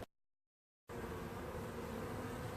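A weak honey bee colony buzzes around its hive and nuc box, a steady close-up hum of many wings that starts abruptly after a brief silence and holds evenly.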